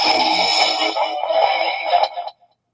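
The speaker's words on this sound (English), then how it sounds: "This one's reverb." A ghost box with reverb applied gives out a loud, sustained smeared tone with a dense wash that holds steady, then cuts off and leaves a short fading tail.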